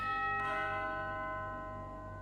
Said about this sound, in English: Cool, you ring the doorbell, Caesar. You hear inside it echo.